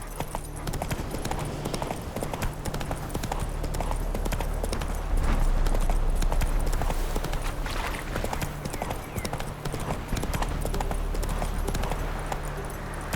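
Rhythmic horse hooves clip-clopping at a steady gallop in The Witcher 3 video game, continuous and fairly loud over a dense game soundscape for the full stretch.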